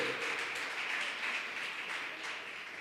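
Congregation clapping in a church, a steady wash of applause sustained throughout at moderate level, with no clear talk over it.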